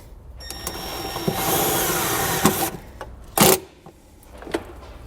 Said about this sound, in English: To get this secured, you're just going to use the included self-tapping screw and run this right into the sheet metal.